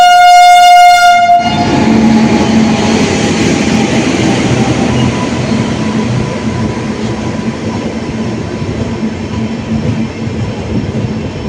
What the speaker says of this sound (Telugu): రైల్వే స్టేషన్ ప్లాట్ఫామ్ నెంబర్ 1 పైకి వస్తున్నటువంటి హుజూర్ సాహిబ్ నాందేడ్ టు తిరుపతి వయా కరీంనగర్ 1 గంట ఆలస్యంగా వస్తున్నటువంటి సూపర్ ఫాస్ట్